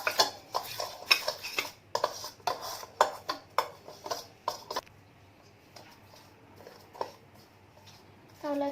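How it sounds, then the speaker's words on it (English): Spoon scraping and clinking against a bowl while paneer is mixed with turmeric and spices, a run of sharp, close taps and knocks for about five seconds, then sparse clicks with quiet gaps. "now let's mix well."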